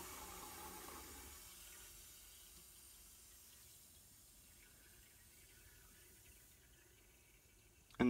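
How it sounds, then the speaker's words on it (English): Water filling a Kohler K9 steam generator (model 1659) under repair for error 5, a faint steady hiss and trickle of flowing water that slowly fades, ending with a brief louder knock. "Now, I can still hear the water."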